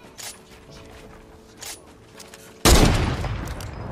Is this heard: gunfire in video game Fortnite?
yes